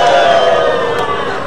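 A television studio audience cheers and shouts in a loud, sustained roar that fills the room, unbroken for the whole moment.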